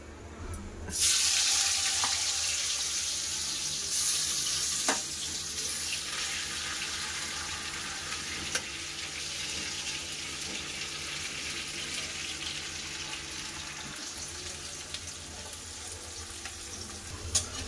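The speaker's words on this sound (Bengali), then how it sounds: "ভেজে নিয়েছি চিপসের মতন করে" Potatoes frying in oil until crisp like chips, a continuous hissing sizzle that starts abruptly and then settles, with a few light clinks of a utensil along the way.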